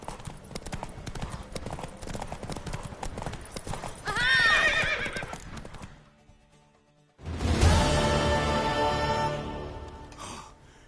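Horse hooves clip-clop steadily in The Witcher 3 while a horse neighs loudly mid-clip; after a brief near-silent pause, another loud whinny and hoofbeats return close by.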